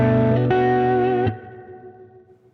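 Lap steel guitar through a humbucker pickup, a sustained chord with a fresh pick-attack swell, ringing loud and full before being cut off, leaving a faint decaying tail; no talking.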